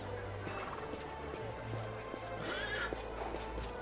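Horse neighs in Pathfinder: Wrath of the Righteous, a clear whinny rising over a steady low game hum in a city scene, with faint hoof clip-clops nearby and no talking.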